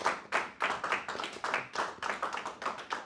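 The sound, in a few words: applause, clapping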